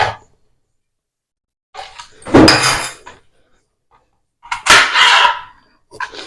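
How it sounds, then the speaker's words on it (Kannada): Fruit being chopped with a knife on a board for a fruit salad, three separate bursts of scraping, clattering cuts with near silence between them, close and fairly loud, and no talking. "ಇವಾಗ ಇದನ್ನ ಕ್ಲೀನ್ ಆಗಿ ಕಟ್ ಮಾಡ್ಕೊಳ್ಳೋಣ ಆದಷ್ಟು ಚಿಕ್ಕದಾಗಿ ಕ್ಲೀನ್ ಕಟ್ ಮಾಡ್ಕೋಬೇಕಾಗತ್ತೆ"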